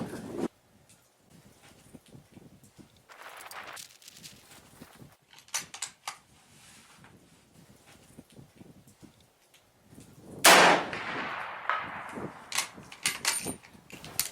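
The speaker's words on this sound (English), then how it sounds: "300 yards is no problemo with this rifle, and this is kind of a modest load here" A single rifle shot with a modest load, fired at a 300-yard target outdoors, gives one sharp report with a trailing echo in an otherwise quiet scene.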